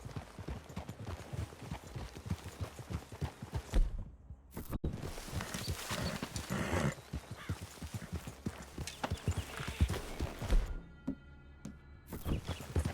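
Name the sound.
horses clip-clopping, from video game Red Dead Redemption 2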